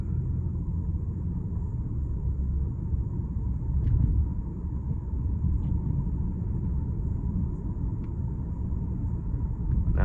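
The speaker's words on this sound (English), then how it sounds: "this generation of E-Class that we're driving is known as the W212" Mercedes-Benz E-Class W212 cruising at night on wet, twisty roads, heard from inside as a steady low engine and road rumble with constant tyre noise, a few faint ticks over the drone, no talking.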